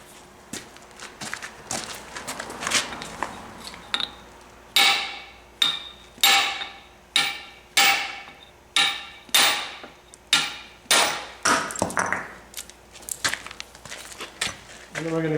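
A hammer strikes a pitching tool on stone during stone carving in a run of about a dozen sharp, ringing blows, preceded by lighter taps and scraping.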